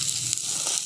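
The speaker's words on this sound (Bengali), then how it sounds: "তো এইভাবে আমি সমস্ত পরোটাগুলোকে ভেজে নিচ্ছি।" Paratha flatbreads frying in a pan for a tiffin recipe give a steady, close sizzle and hiss that holds without a break through the short moment, with no talking.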